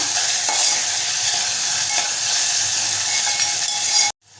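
Chopped onion and tomato sauté in a pan, a loud, steady, close hiss with crackling and light stirring scrapes, cutting off abruptly near the end.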